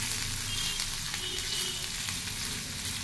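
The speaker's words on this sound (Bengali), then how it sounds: "এই পনিরগুলো টুকরো টুকরো করে তেলের মধ্যে একটু ফ্রাই করে নিচ্ছি।" Pieces of paneer fry in hot oil, giving a bright, close, constant sizzle with light stirring clicks and no voices.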